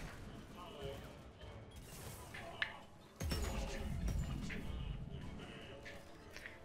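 Sniper gunfire in Mass Effect 3 on Hardcore difficulty: a sharp shot bursts out midway, followed by a loud rumbling blast and sustained combat noise, with someone talking over the game sounds.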